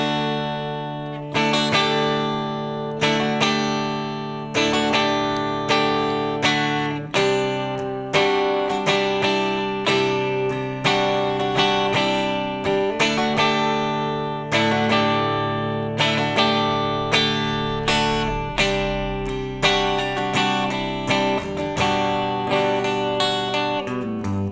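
Rhythm guitar plays the passage leading into the solo of a song: a steady run of picked chord notes, each attack ringing and decaying, clear and close with no voices.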